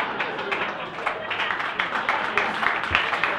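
An audience at a comedy club in Chicago claps in a dense, sustained burst of many hands, filling the room for a few seconds.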